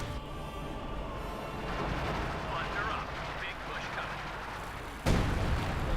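Artillery barrage in the video game Company of Heroes 2, aimed at a panzer area: dense, continuous booming battle noise with scattered impacts, ending in a loud, sharp blast near the end, over a busy game soundscape.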